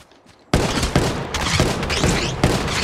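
Rapid automatic gunfire from Apex Legends Mobile bursts in after half a second of near silence, a dense, loud stream of shots with a few sharper cracks, continuing steadily to the end with no talk.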